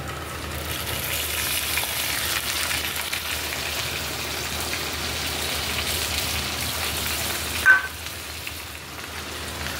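Whole spices, bay leaf and green chillies frying in oil at the start of Bengali chicken kosha, a steady soft hiss and crackle that holds evenly throughout with one brief louder pop near the end.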